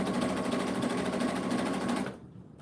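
A sewing machine stitches fabric at a steady fast whir for about two seconds, then stops abruptly, leaving faint room noise.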